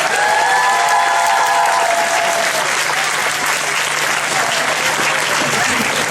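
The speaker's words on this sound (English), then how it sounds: "a big round of applause for Navneet Chandra, please" A large audience applauds after a dance drama performance, a loud, dense, continuous burst of clapping with a few sustained tones from voices or music fading out in the opening seconds.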